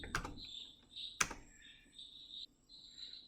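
Computer keyboard keys are pressed during an installation setup, producing a few sharp, close clicks over a quiet background with faint high electronic tones.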